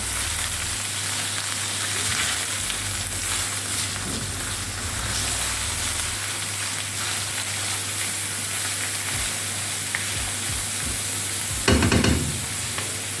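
Flour-coated fish frying in plenty of oil in a pan, a continuous dense sizzle with occasional scraping and stirring knocks, and a brief louder clatter near the end, close and without speech.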